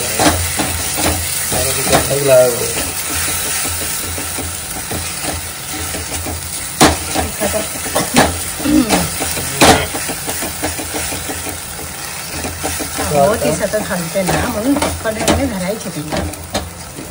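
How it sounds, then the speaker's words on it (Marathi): Chutney sautéing in oil in a pan, a constant sizzling hiss with intermittent stirring scrapes and clanks of a spoon, loud and close, with faint background hum. "ही चटणी मेन आहे, ही तेलात छान परतवायला लागते"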